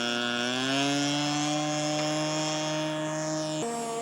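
Engine of a scale model aircraft during landing, a steady loud droning buzz that holds one pitch, then drops suddenly near the end as the throttle is cut, with no voices.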